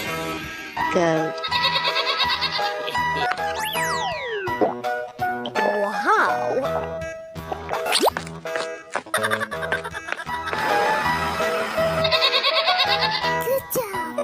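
A goat bleats among bouncy cartoon boings, plops and music in a children's animal-sounds sequence. The bleats come as repeated wavering cries, and a voice briefly exclaims over the busy, loud mix.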